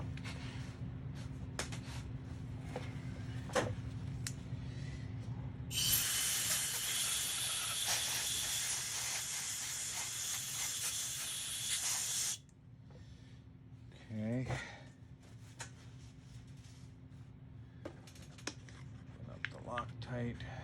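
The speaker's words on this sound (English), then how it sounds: "And blow them out with a little air." Compressed air blows out freshly tapped threads in metal parts from a Harbor Freight oscillating multifunction tool, a loud rushing hiss that lasts about six seconds before cutting off, with a few faint clicks and handling noises around it.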